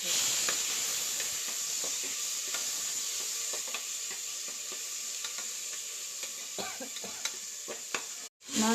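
Garlic and tomato frying in a pan: a steady close hiss of sizzling oil with occasional small clinks and stir scrapes, continuous throughout and cut off briefly near the end, no speech.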